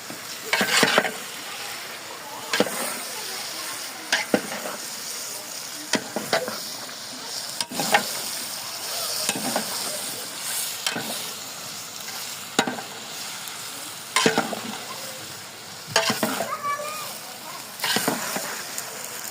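Chicken and vegetables for a Pakistani pulao fry and sizzle in a large pot, cut through by repeated loud scraping strokes of a stirring ladle every second or two.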